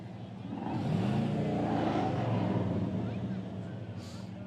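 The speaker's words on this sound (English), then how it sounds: "We got some old trucks here." Old trucks rolling past in the Fort Verde Days parade, a low engine rumble that swells and holds steady as vehicles drive by, fairly distant and moderate in level.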